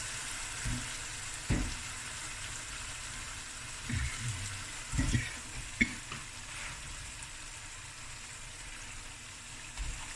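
Potato pieces sizzle and hiss in a pot of Cape Malay lamb curry, with a steady soft frying bed broken by a few scraping stirs and clunks, fairly quiet throughout.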